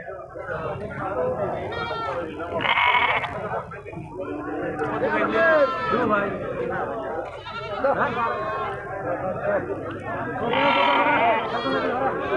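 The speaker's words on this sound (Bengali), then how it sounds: "দেখেন প্রচুর ভেড়া আছে আজকের হাটে।" Many sheep bleat repeatedly at a busy livestock market, loud and close, over a constant background of crowd chatter and people talking.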